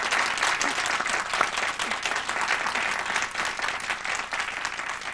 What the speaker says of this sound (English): go ahead and applaud if you want